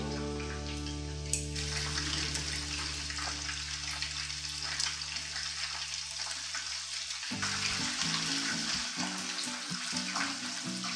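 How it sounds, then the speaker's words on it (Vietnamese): Chicken wings for lollipop-style wings deep frying in oil over high heat, a steady dense sizzle with crackling pops throughout, close and continuous with no talking. "Trong lúc mà mình chiên á, thì mình sẽ chiên với lửa lớn."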